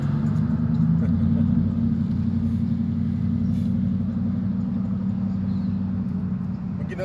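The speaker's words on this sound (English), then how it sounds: "And here's the car." A car passes on a street during an outdoor street ministry, its low engine rumble steady and fairly loud throughout, slowly easing off near the end.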